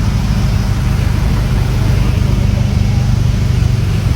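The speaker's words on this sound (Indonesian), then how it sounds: "Taman Safari Bogor macet." Traffic jam near Taman Safari Bogor, a steady low rumble of idling cars and heavy vehicles with constant engine drone, close and continuous, no distinct voices.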